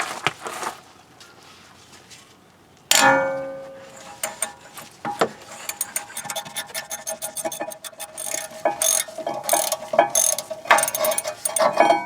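Breaker bar loosening a brake bracket bolt on a 2002 Nissan Maxima, a sudden sharp crack as the bolt breaks free, then a rapid run of ratcheting clicks growing denser and louder, close by.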